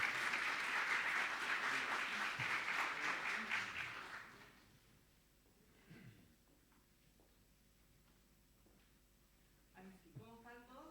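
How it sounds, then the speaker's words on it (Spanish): An audience at a panel on investment in Biobío, Chile, breaks into dense, sustained applause for about four seconds before it stops abruptly, leaving a quiet room with faint speech and rustling. "les damos un gran aplauso para seguir su"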